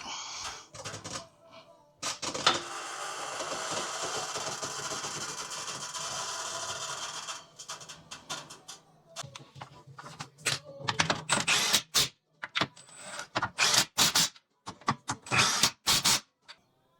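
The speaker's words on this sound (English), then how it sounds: "Now I'm gonna put on all the bolts from the bottom." Bolts going onto the lower control arm of a 2011 Toyota Sienna with a power tool, a long run of rapid mechanical rattling whirring. Short bursts of ratcheting and clanking follow, close up and with no talking.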